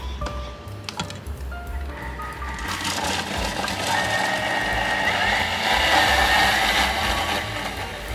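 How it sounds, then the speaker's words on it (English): A food processor chops a shallot and garlic cloves. The motor winds up into a loud, steady whirring grind with a rattling mechanical edge, close by and running continuously. "we're going to start off by just processing this a little bit"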